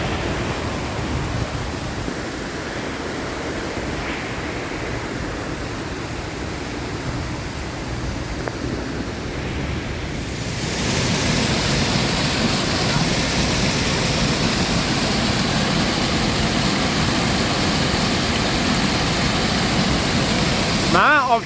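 Broadband rushing of a small waterfall outdoors, a steady wash that grows louder and fuller about halfway through, with soft voices faintly underneath.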